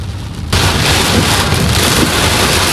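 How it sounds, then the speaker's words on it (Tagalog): Heavy typhoon rain starts abruptly and then pours in a steady, loud, dense roar, drumming hard on a nearby vehicle while camping. "Wow, super lakas ng ulan!"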